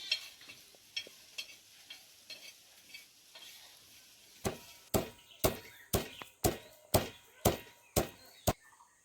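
Whole spices for an amla pickle shifted around a hot pan, with soft scraping and rustling at first, then a run of about nine sharp, regular strikes ringing out close by.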